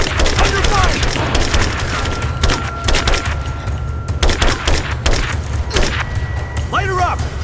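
Gunfire and explosions in the video game Rise of the Tomb Raider, dense thumping shots and booms in a continuous loud barrage, with shouted voices mixed into the battle.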